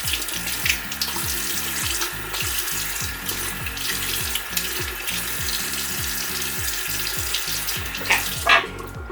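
Water from a bathroom tap runs steadily into a sink while a face is dampened, with soft splashes near the end; close and continuous, with no talk.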